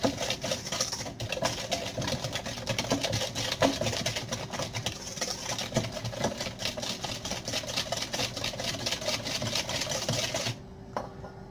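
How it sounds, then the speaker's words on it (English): An egg and sugar being whisked by hand in a bowl, a steady rapid scraping and clinking rhythm running continuously for about ten seconds, close and fairly loud, then stopping abruptly. "1 egg into the bowl. Start whisking that, start dissolving the sugar."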